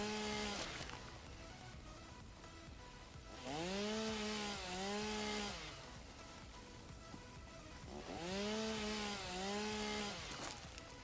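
A chainsaw in the video game Satisfactory revs up twice in loud rising-and-falling bursts over a constant background hum, with quieter idle stretches in between.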